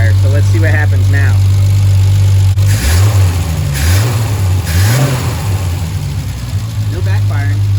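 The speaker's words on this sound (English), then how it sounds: "No backfiring. I'd say the carburetors are fixed" A Triumph TR6 engine runs after a Stromberg carburetor rebuild, holding a loud steady idle with several rising revs in the middle and no backfires, while someone talks over it before and after.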